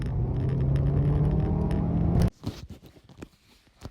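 A 2015 Abarth 500 engine in sport mode gives a steady, fairly close drone for about two seconds, then cuts off abruptly, leaving faint scattered rustles and knocks.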